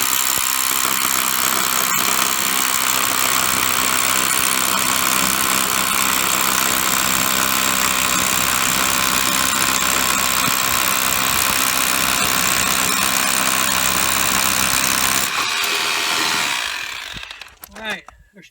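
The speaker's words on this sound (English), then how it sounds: "so we're going to drill this one out." Powerful drill boring out concrete for an egress window well, a steady loud grinding roar running continuously for about fifteen seconds before winding down and stopping, with no talking over it.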